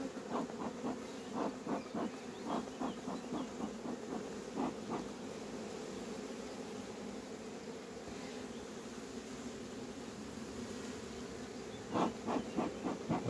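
Honeybees drone around a hive box being heavily smoked, a dense continuous buzz close by, with pulsing rhythmic puffs from the smoker at the start and again near the end.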